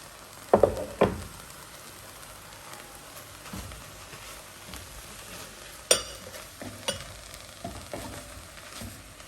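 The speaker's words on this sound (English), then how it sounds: "we're going to add the carrots. This is just shredded carrots, just to give the tofu some color." Shredded carrots added to scrambled tofu in a pan, a soft crackling fry underneath with scattered clinks and knocks from utensils at irregular intervals.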